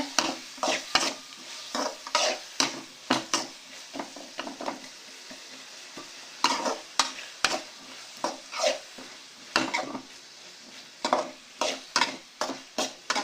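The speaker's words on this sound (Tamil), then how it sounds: "இதை நல்லா மிக்ஸ் பண்ணி நல்லா வதக்கிக்கணும் தக்காளி நல்லா கரையிற அளவுக்கு வதக்கிட்டு" Tomatoes being stirred and sautéed in a pan for tomato rice: a regular rhythm of spatula scrapes against the pan over a soft sizzle, close and alone, with no talk.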